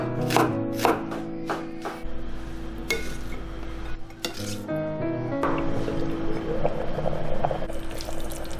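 A knife chops lettuce on a board in quick close taps, followed by a steady low hum and clattering kitchen noises with a hint of running water.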